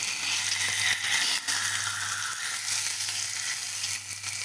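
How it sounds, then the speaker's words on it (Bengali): Fish frying in a pan, reddening on one side, with a steady, close, hissing sizzle and faint crackles, no voices. "ঠিক আছে মাছ ভাজা হোক"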